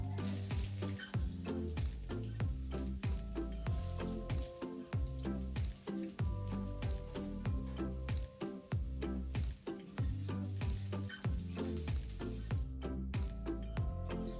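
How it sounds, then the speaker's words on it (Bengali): Potatoes fry without salt or turmeric in hot white oil in a kadai, giving a soft, steady sizzle that sits under rhythmic background music for the whole stretch. "লবণ আর হলুদ ছাড়া আলুগুলো ভেজে নিচ্ছি।"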